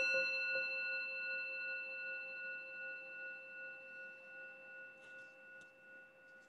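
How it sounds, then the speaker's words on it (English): A meditation bell is struck once at the start of a mindfulness session, its clear, sustained ring holding several steady tones and fading slowly over several seconds, with faint soft clicks near the end. "We will begin with the sound of the bell."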